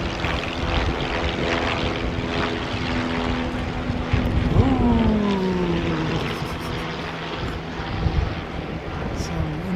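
A student pilot's small propeller airplane takes off, its engine drone swelling and then shifting in pitch as it climbs away at moderate distance, with indistinct voices faintly underneath.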